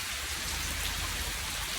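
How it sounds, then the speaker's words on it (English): Steady rain falls throughout, a dense even hiss of drops on surfaces, close and continuous with no voices over it. "It's raining."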